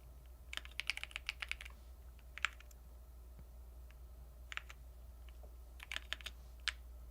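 Typing on a computer keyboard during an online multiplayer typing game, with bursts of quick clicking keystrokes separated by pauses, close and fairly quiet over a low steady hum.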